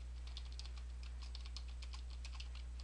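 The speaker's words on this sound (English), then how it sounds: "type in some text" Quick, irregular clicks of fingers typing on a computer keyboard, light and close, played over a low steady electrical hum with no voices.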